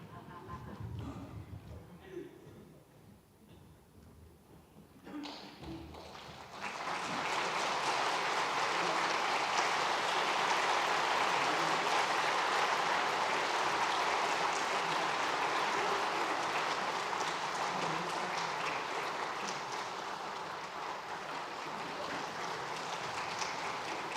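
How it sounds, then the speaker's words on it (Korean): A church congregation applauds during a Sunday worship service as flower bouquets are presented to retired pastors and elders; a long, steady, loud wash of clapping begins after a few quieter seconds and continues to the end. "여러분 전달할 때 박수 쳐주시면 되겠습니다"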